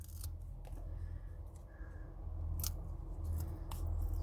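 Scissors snip through a thin craft piece in several short, crisp cuts spaced irregularly over a low background hum, close and moderately loud with no talking.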